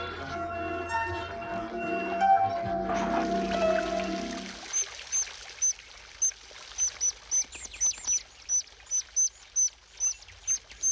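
White-throated dipper chicks in a riverbed nest give a rapid series of short, high chirping begging calls, repeated steadily and fairly close, following a stretch of rushing river water.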